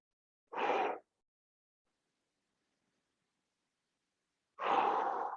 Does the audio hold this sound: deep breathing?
yes